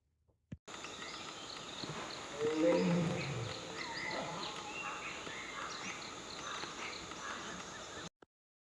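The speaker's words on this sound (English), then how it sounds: "we heard another tiger roar from behind us" Tiger roaring in Kanha forest, a low rumbling roar rising near the start and fading into a long, moderately distant call over quiet jungle ambience, with faint bird calls.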